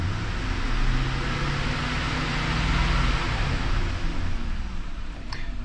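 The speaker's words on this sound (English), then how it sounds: "step on the accelerator to 2500 RPM and hold it for 5 seconds" A car engine held at a steady 2500 RPM during a battery charging test, a continuous loud mechanical drone with broadband roar that stays even throughout, no voices.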